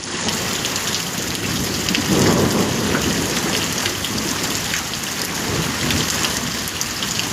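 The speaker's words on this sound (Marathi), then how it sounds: "हे पहा, हा आहे पहिला पाऊस." The first monsoon rain falls steadily at the Bhimashankar temple area, a dense, even hiss of drops on surfaces with a low rumble swelling briefly near the middle and no voices.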